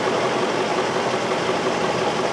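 A misfiring V8 car engine idles on only three cylinders, a steady, close, rough low rumble with uneven vibration running throughout, no voices.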